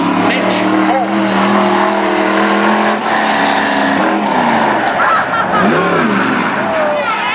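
Racing kart engine on the Cottage Grove racetrack during national qualifying, the number 2 car on a J&J chassis, with a loud, continuous high-revving whine that shifts pitch as it accelerates and slows through the turns.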